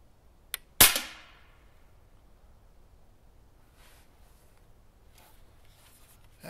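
A Crosman Legacy 1000 pump air rifle fires one sharp, loud crack with a short ringing tail, after a faint click just before it. Quiet room hiss follows.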